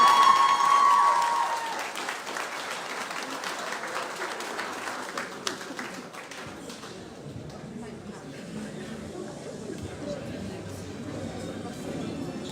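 An audience at a secondary school graduation ceremony gives a burst of clapping that is loudest at the start and then thins into a softer, scattered patter, with voices in the hall.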